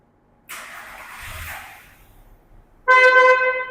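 A 2011 Volkswagen Vento Highline petrol car starts on a single crank: a short starter whirr, then the engine catches and settles into a loud, close idle.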